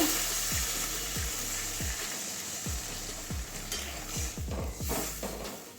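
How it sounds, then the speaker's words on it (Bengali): Greens, potatoes and spices sautéing in a pan: a constant bright sizzle punctuated by repeated rhythmic scrapes and knocks of a spatula or spoon against the pan, close and clear. "ভালো করে কষিয়ে নিয়ে আসি শাক আলু এবং মশলার সঙ্গে ভালোভাবে কষিয়ে নিয়ে আসি"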